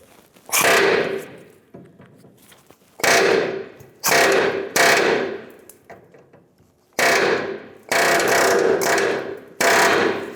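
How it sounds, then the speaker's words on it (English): A hammer strikes a center punch to drive out a rivet on a 1990s Ford F-150 truck frame, with about seven sharp, loud metallic blows in an uneven rhythm and short pauses between them. "Now I'm going to take a center punch and hopefully pop this rivet right out."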